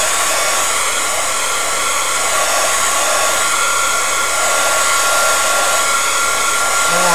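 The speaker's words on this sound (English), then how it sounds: "I will go ahead and take the heat tool and then just dry it up that way." A heat tool blows steadily and loudly throughout while drying freshly dyed lace, a continuous close whooshing roar with no pauses or voices.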